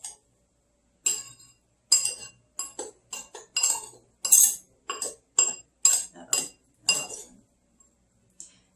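Spoon scraping and clinking against a bowl while blueberry crumble is mixed, a run of irregular close taps and clatters spread across several seconds with brief pauses between strokes.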